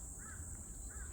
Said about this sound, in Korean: 까치 소리가 까까 소리가 들립니다